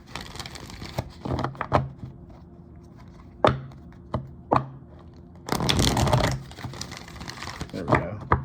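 Playing cards being shuffled by hand, several short crisp riffles and taps spread apart, ending in a longer dense burst of shuffling, with quiet talk in between.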